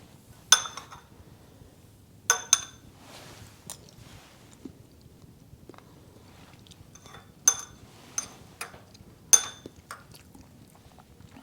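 Someone chewing rehydrated freeze-dried hamburger, soft intermittent crunchy bites spaced a second or two apart, close and quiet over near silence.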